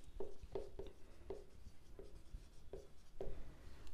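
A pen scratches on paper while an algebra problem is written out, producing short, faint strokes in an irregular rhythm, close up and with no talk.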